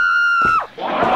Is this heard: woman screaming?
yes